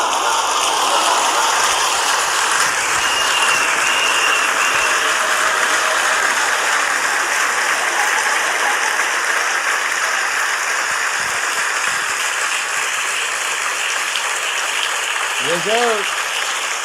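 A group of people on a podcast claps steadily in a dense, continuous patter for many seconds, with a short spoken reply breaking in toward the end.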